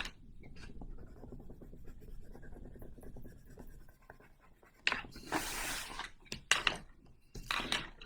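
A pencil scratches across paper up close, first in soft rapid strokes, then in louder, broader shading bursts toward the end.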